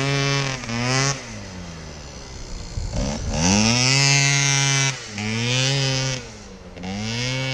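Keeway 70 big bore scooter engine revving hard during a wheelie session, a loud buzzing two-stroke note rising and falling in repeated throttle blips, close by and without speech.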